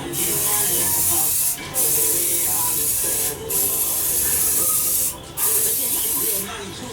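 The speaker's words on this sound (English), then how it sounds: "So spraying by far like that seems to avoid any of the unevenness." A spray can of Flexi Dip hisses in long continuous bursts, three or four in a row with brief pauses between, close and loud, as paint is sprayed onto a car.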